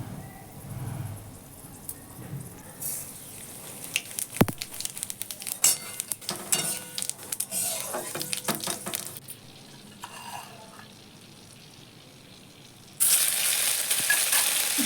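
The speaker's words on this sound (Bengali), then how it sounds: "ওর মধ্যে একটু তেল দিয়ে নিয়েছি, সোমবারা দিচ্ছি, শুকনো লঙ্কা, তেজপাতা আর অল্প সামান্য জিরে দিয়ে সোমবারা দিয়ে নিচ্ছি।" Dried red chili, bay leaf and a little cumin crackle and sizzle in hot oil for a fig dish, with stirring clinks and scrapes from a pan in the middle stretch and a louder sizzle burst near the end.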